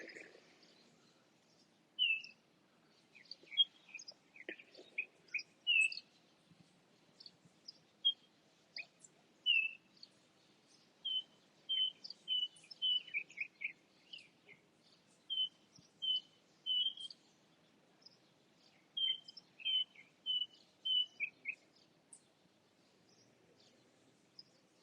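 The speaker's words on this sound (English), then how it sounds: "Hopefully you can hear the sounds of the birds." Birds on a Caribbean island sing in a steady run of short, bright chirps and trills, some near and some farther off, over a quiet background.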